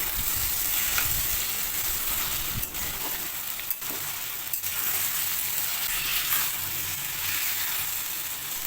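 Steady sizzling in a pan as taro stolons fry, a loud continuous frying hiss with occasional soft scrapes and knocks as they are gently stirred.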